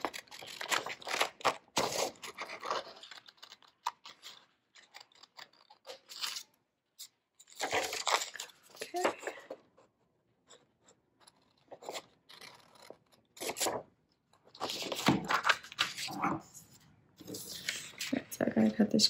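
Scissors cut around the outline of a paper semi truck shape. Close, intermittent bursts of scraping snips come in clusters, separated by quiet pauses.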